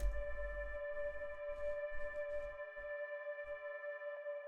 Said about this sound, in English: So this one is more of a droning sound.